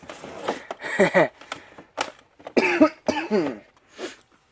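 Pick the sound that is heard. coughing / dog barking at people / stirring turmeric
coughing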